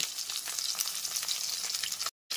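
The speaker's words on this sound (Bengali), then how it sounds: "ঠিক একই রকমভাবে সমস্ত মাছের পিসগুলোকে লাল করে ভেজে নেব।" Pieces of katla fish fry in hot oil, giving a steady, close, crackling sizzle that runs unbroken before a sudden brief cut to silence near the end.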